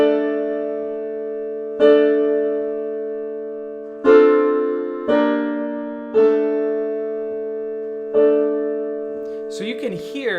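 Full choir sings sustained chords in the Estonian choral style, voices layered and overlapping with gentle dissonance, each chord changing every second or two, ending with a brief rustle.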